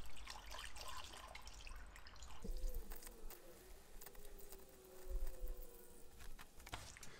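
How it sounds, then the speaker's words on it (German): Water is poured through a funnel into a car's cooling system during a flush with radiator cleaner, a steady close trickle and gurgle lasting several seconds with faint buzzing in the background. "Trichter rein und wieder mit Wasser auffüllen."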